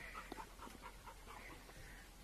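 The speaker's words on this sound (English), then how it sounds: "Can you please stop making the bark?" A pet dog pants and whimpers faintly in a quiet room, soft rapid breaths with a few small whining yips, close but low in level.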